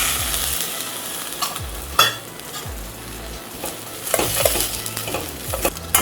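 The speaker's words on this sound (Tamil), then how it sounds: "ப்ரெட்டு கொஞ்சம் நல்லா வதங்குது." Bread cubes for egg bread upma sauté in a pan, a close continuous sizzle broken by repeated scraping stirs and light utensil knocks against the metal, with no voices.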